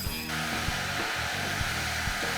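A steady broadband blowing roar, like a heat gun or torch, heating a stuck bolt on an old motorcycle, continuous and close with faint low thumps beneath, no voices.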